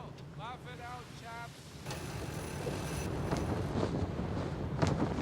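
Wind buffets a hearing aid microphone, giving a broadband rumble that swells and grows stronger in the second half, with brief whistling tones early on and faint voices mixed in.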